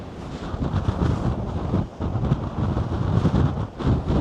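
Strong wind on the coast at Filey roars loudly across the microphone in continuous, surging gusts with no voices, a rough blustery rumble that barely lets up.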